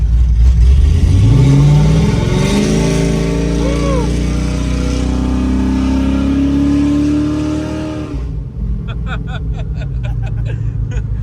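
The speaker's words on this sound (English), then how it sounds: "Well, let's do an open. You want to do an open header rip real quick?" An LS-swapped 1957 Chevy Bel Air with open headers revs hard and climbs in pitch with a raw, unmuffled roar, then cuts off abruptly, leaving crackling pops.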